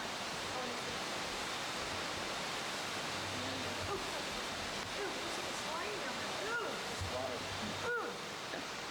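A river in Puerto Rico roars steadily far below a viewpoint, a dense continuous rush of water, while people talk over it.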